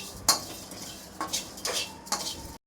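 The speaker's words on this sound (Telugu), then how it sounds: "ధనియాలు, జీలకర్ర, ఇవన్నీ రోస్ట్ చేసుకుందామండి" Whole peppercorns, coriander and cumin seeds being dry-roasted in a pan, heard as three or four separate scrapes and rattles of spoon against metal with short pauses between them.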